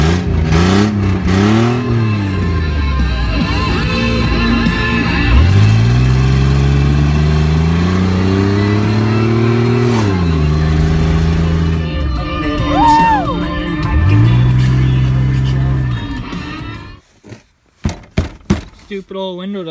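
A temperamental truck's engine revs up and down in long rising and falling sweeps, loud and close, settling between pushes, then cutting off into a few sharp thunks near the end.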